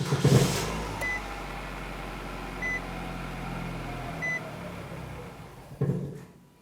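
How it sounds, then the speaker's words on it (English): A 2007-2012 Nissan Versa engine with its fuel system drained cranks, then settles into a low steady idle that fades out as it stalls. A few short electronic chime beeps sound over it, and another brief burst of noise follows near the end. "Let's go ahead and crank the engine and let it run until it stalls out."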